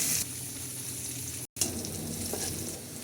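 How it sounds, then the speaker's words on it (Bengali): Steady, loud sizzling of onions and green chillies frying in hot oil in a wok, with a brief cut midway before the crackling continues. "আর একটা কড়াইতে তেল দিয়ে দিলাম, পেঁয়াজ"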